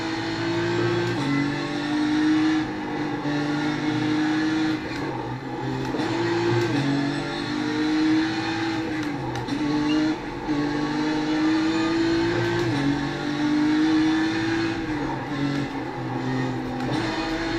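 A BMW M4 GT3 race car engine in the iRacing simulator on the Nordschleife, droning loudly and continuously as the revs rise and fall through gear changes, with no talking.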